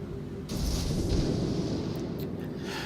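Heavy naval guns booming from a warship in World of Warships, a dense rumbling barrage that swells after a brief lull and rolls on continuously at close range with no voices over it.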